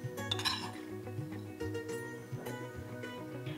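Metal utensils clink and scrape against a pan as roasted garlic kharda chutney is scooped out, with a few sharp knocks spread over steady background tones.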